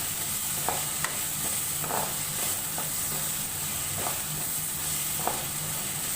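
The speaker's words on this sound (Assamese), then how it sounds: "আৰু এইখিনি ভালদৰে লৰাই থাকিম" Diced potatoes with cumin and garam masala fry in a pan with a steady sizzle while a spoon stirs them, giving several soft scraping taps spaced across the clip.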